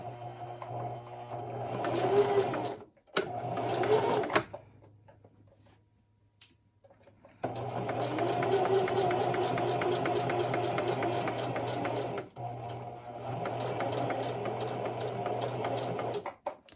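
A home sewing machine runs slowly while stitching a blouse facing along a curved neckline: a steady whirring, ticking hum in long stretches, stopping briefly near the start and again in a longer pause before resuming.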